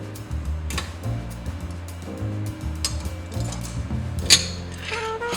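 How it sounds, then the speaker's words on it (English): Potato ricer on its smaller grater setting, forced down through boiled potatoes: close, uneven creaks, clicks and squeaky mechanical grinding in short strained pushes with a sharper snap near the end. "ran them through the potato ricer on the smaller grater setting back into the still hot pot"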